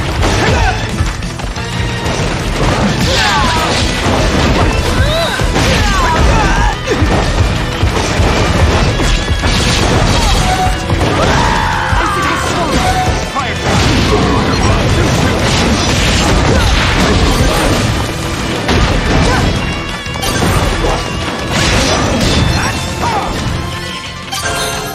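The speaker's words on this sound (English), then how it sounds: "Fire! Firebomb Jutsu!" Firebomb Jutsu explosions in the video game Naruto to Boruto: Shinobi Striker: a loud, dense run of crashing booms and impacts that barely lets up for the whole stretch, with game battle noise layered throughout.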